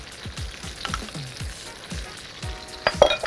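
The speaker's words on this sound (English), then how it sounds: "Just start by sautéing that real nicely." Sliced garlic and Calabrian chili paste sautéing in olive oil for spicy crab pasta, a steady sizzle broken by repeated utensil scrapes and clinks against the pan.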